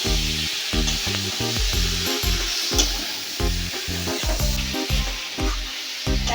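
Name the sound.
frying and stirring jackfruit and potatoes in a pan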